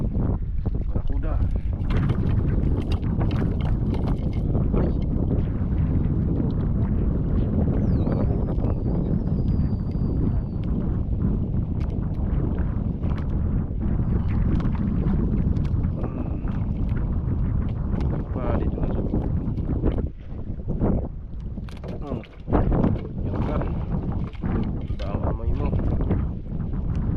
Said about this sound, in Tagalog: Lakas na ng hangin guys